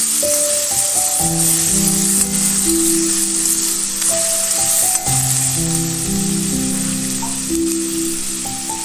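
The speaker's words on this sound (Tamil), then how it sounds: "வெங்காயம் தக்காளி நல்லா வதங்கினோன்னு காலிஃப்ளவரை போட்டுக்கலாம்" Cauliflower frying in a pan with onion and tomato gives a steady, close sizzle, with a melodic background tune playing over it throughout.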